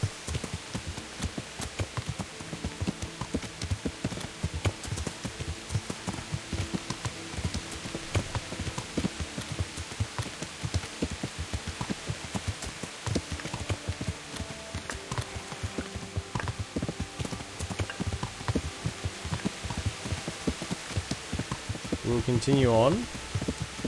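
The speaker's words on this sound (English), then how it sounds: "Rain's falling from the heavens" Steady rain falls in the video game Kingdom Come: Deliverance, a constant hiss over the whole stretch with horse hoofbeats clopping underneath and someone speaking briefly.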